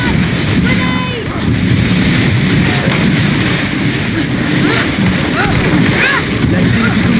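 Battle in the video game GreedFall with a grenade going off: dense, rumbling explosive booms and combat noise fill the whole stretch, loud and continuous, with a voice talking over it.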